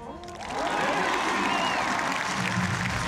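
A crowd applauding and cheering at a Global Champions League show jumping event in Paris, steady clapping that swells quickly and holds loud, with a commentator talking over it.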